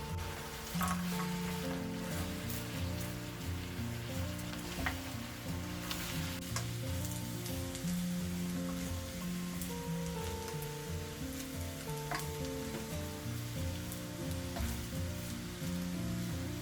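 Ghee rice with fried cashews and garlic being stirred in a pan, giving a steady close sizzle with scraping stir sounds throughout, no talking.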